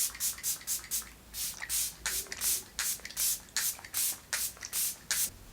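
A budget makeup setting spray is pumped onto a face, a rapid series of short, breathy hissing mists in uneven bursts, close and fairly clear, with no speech over them.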